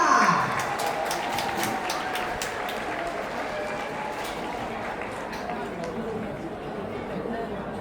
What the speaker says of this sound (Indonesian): Mari kita berikan tepuk tangan yang meriah untuk kita semua.